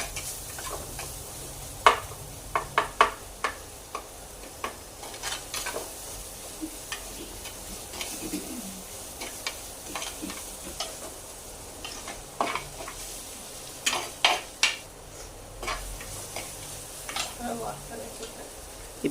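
Tomatoes stirred with turmeric in a frying pan give a soft steady sizzle, with scattered scraping taps of the spoon against the pan throughout.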